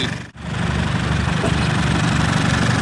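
Isuzu D-Max 2.5 pickup diesel engine idling after a remap, a steady low rumble with a faint knocking texture, loud and close after a brief dip at the start, with no talk.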